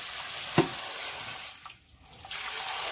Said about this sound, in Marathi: असं ह्याच्यात पाणी ओतायचं